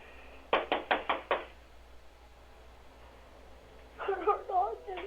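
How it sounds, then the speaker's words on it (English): Little girl knocking on the door of an unoccupied house in the middle of the night: five quick, evenly spaced knocks, fairly close, followed by a short pause and then a voice speaking. "The footage shows a little girl holding a flashlight and knocking on the door of an unoccupied house in the middle of the night."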